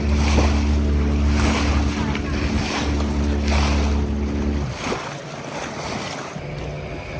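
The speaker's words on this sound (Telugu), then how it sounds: "బోట్ మెల్లగా పోతుంది." Motorboat cruising slowly on water, its low steady engine drone running beneath wind noise and gentle water wash before the hum drops away near the end.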